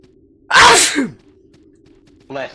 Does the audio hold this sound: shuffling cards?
no